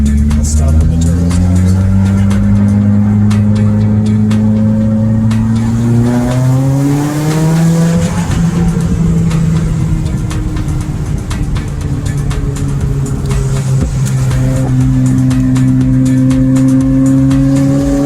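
A tuned 2017 Subaru WRX pulls hard through the gears, its engine note climbing steeply in long, loud rising sweeps, dropping at each shift and climbing again, heard from close by with continuous road and wind roar.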